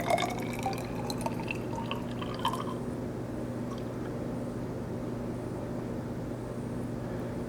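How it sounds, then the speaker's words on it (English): Hydrochloric acid poured into a styrofoam cup calorimeter, heard as close, soft trickling and dripping over a steady low hum, with brighter splashes early that thin out into a quiet continuous run. "We will pour in another 50 milliliters of hydrochloric acid."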